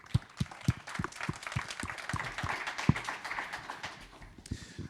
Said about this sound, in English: Let's welcome them already with a round of applause